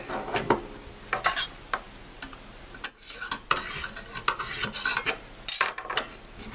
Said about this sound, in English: This sharpening kit really does a good job